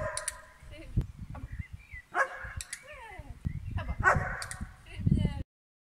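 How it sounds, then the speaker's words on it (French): A dog barks on command several times in short bursts, with whimpering yips between, while a person talks nearby. "Maintenant que votre chien sait aboyer sur commande"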